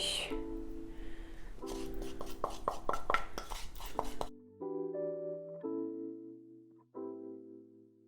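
Spoon clinks and scrapes in a bowl as flour, baking powder and baking soda are stirred into cookie dough for Nutella spiral cookies, a quick run of taps over steady background music that carries on alone afterward.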